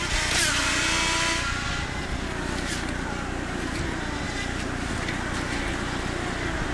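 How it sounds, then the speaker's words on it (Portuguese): IndyCar race car driven by Ryan Briscoe at the 2011 Baltimore street race, its engine roaring loudly past at close range and then holding a steady high-pitched drone. "Sobe o som, vamos curtir o motor do carro dele."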